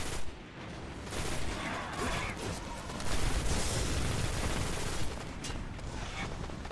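Sustained rapid gunfire in a Destiny firefight, a dense barrage of overlapping shots and booms rolling on for several seconds without pause.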